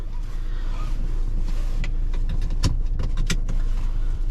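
A diesel Audi Q3 engine rumbles steadily from inside the cabin, a low rough drone with a few faint clicks and knocks over it.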